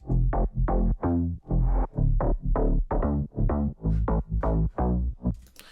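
A deep house bass synth with an auto filter plays a steady run of short, punchy notes in a repeating rhythm, each note sweeping in tone, fairly quiet.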